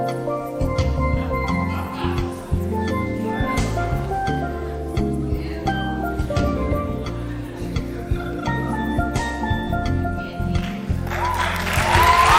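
Audience applause fills the hall at the closing ceremony of the Caribbean Secondary Schools' Drama Festival, a steady dense clapping wash lasting throughout with a swell at the end, mixed with faint voices.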